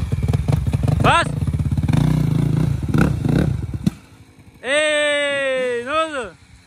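Polaris Sportsman 4x4 ATV engine revving hard while stuck in forest mud, loud and close, with rising and falling throttle bursts in the second half after people talk over a rumbling idle.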